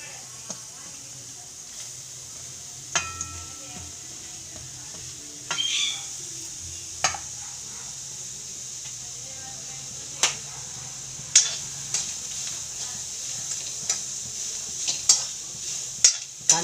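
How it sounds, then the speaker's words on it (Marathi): Cumin, onions, garlic and chopped green chillies fry in a pan over a gas flame for Khandeshi pithla, giving a steady soft sizzle with sharp stirring clicks and taps scattered throughout. "कांदे मस्त लाल होऊ द्यायचे."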